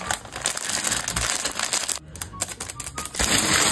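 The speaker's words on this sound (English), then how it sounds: "Starting off with assembling a box" Crisp cardboard crinkling and folding up close as a shipping box is assembled, a dense run of dry rustles and snaps with brief quieter gaps before picking up again.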